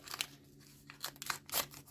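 A paper surprise packet is torn open from the back. Several close bursts of crinkling and ripping paper come in a halting rhythm.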